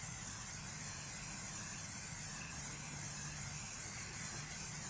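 A can of waterproofing spray hissing steadily onto a shoe during cleaning, a close, continuous airy spray lasting several seconds without a break, with no one talking.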